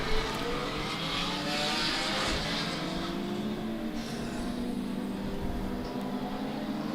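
Classic race cars set off at the SKOPE Classic as the first group leaves, engines revving with rising, overlapping tones over a continuous moderate roar.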